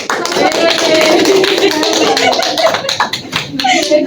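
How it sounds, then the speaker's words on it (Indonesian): Clapping from a small classroom group during a microteaching session, a burst of applause that thins and fades out over a few seconds, with voices chatting around it. "berikan aplaus untuk"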